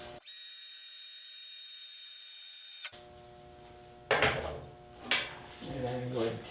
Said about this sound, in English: So just go ahead and drill the holes.